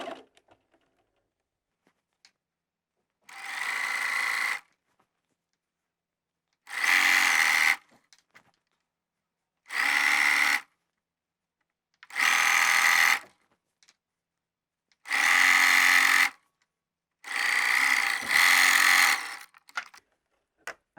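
A sewing machine stitches a fillet strip onto a quilt in six separate bursts of steady, close mechanical whirring, each lasting one to two seconds with short silent pauses between them; no one speaks.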